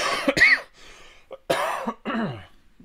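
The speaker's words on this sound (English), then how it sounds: "These coughs are so productive." A person coughs several times in quick bursts, with brief throat-clearing between, close and fairly loud against a quiet room, no talking.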